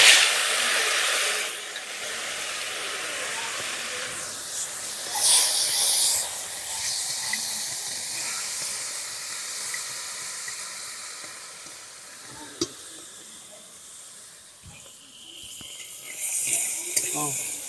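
Crab pieces coated in salt and turmeric fry in hot oil in a wok, giving a steady broad sizzle and hiss with a few brief clatters, close and fairly loud throughout.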